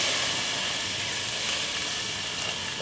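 Warm milk poured into a hot pan of melted butter and garlic gives a steady, loud hiss and sizzle that holds unbroken for a few seconds with no talking.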